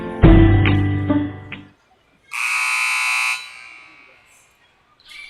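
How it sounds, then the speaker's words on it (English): A basketball game buzzer sounds once, loud and steady for about a second, during a junior high school intersquad game in a gym; an announcer's voice is heard just before it. "looks like the buzzer has already sounded to start the fourth quarter"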